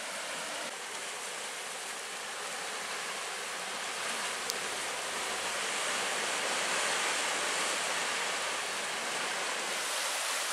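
Spray Falls, a waterfall at Pictured Rocks on the Michigan lakeshore, gives off a steady, even rush of falling water that swells slightly midway. It sounds moderately distant, with no voices.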